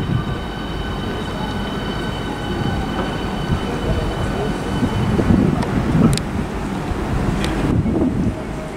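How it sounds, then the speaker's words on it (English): A Southeastern train arrives at Stratford International station on HS1, a steady broad rumble of rolling stock and wind noise with faint squeals and tonal hum throughout, building slightly toward the end. "arriving now is a 1029 Southeastern service from Faversham to London St Pancras"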